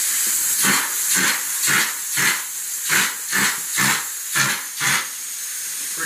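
A Marshall 2.1 texture hopper sprays wall texture in about nine rhythmic, loud, close bursts of pressurized air over a constant background hiss, with no talking.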